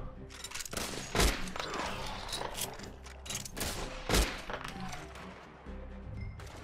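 Gunfire in Red Dead Online, a few loud, sharp shots spaced over a busy background of game sounds, with someone talking faintly.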